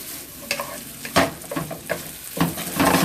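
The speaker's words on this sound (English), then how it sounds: "the rice has been stir frying here for a little bit" Rice stir-frying in a hot wok, with steak fried rice under way: a steady sizzle broken by scraping and tossing strokes, up close and loud, no voices.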